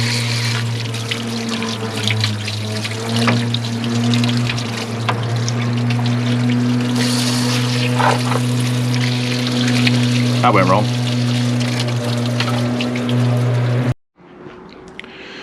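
Water pours and gurgles steadily as it is flushed through the cooling system of a Classic Mini Clubman Estate, a continuous trickling rush with a steady hum beneath, then cutting off abruptly near the end as someone speaks.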